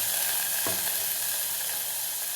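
Carrot pieces fry in half a spoon of hot oil, giving a steady, close hiss and crackle with a single faint clink partway through.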